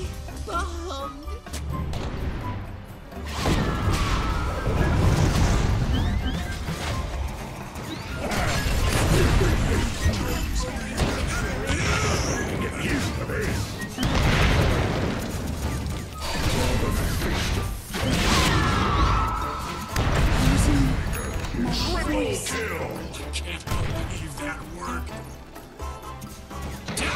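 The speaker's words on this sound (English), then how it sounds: "Explosions. Explosions! We bombed." Explosions and crashes in the video game Dota come as loud, dense bursts of impacts, smashes and whooshes. They swell and fade repeatedly over a steady, busy background of game effects.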